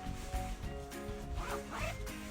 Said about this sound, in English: Open the pit zips.